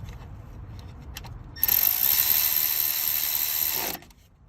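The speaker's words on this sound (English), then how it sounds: "now I'll go back and tighten that with the hand wrench" Hand ratchet wrench tightening a bolt on an AC compressor hose of a 2002-06 Hyundai Santa Fe: a few soft clicks, then a close, rapid, steady ratcheting buzz lasting over two seconds before it stops abruptly.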